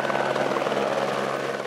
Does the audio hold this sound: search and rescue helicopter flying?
yes